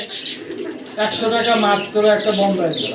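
Pigeons cooing at a bird seller's stall in Bangladesh, soft repeated coos heard close up, mixed with people talking over them.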